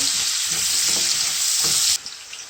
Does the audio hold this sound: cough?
no